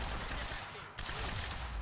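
Rapid bursts of gunfire in the video game Quantum Break crackle in quick succession, fairly quiet, with a short lull midway before the shooting resumes.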